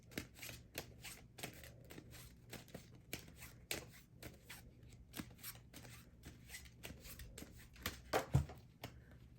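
Tarot cards being shuffled to draw two more for a reading: close, rapid papery riffles and slaps in an irregular rhythm throughout, with a brief louder handling noise near the end.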